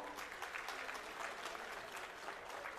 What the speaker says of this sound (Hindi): तालियां आपके तरफ से जोरदार हो।